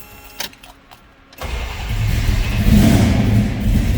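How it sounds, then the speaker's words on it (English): A 1970 Dodge Dart Swinger hardtop with a 360 block stroked to 408 cranks over briefly, then catches and settles into a loud, rough, lumpy running rumble, close up. "start this up so you can hear it run."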